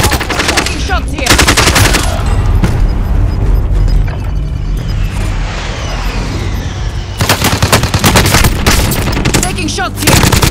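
Loud, close automatic gunfire from Call of Duty Warzone, fast bursts of rapid shots with a quieter stretch in the middle, under occasional game voices.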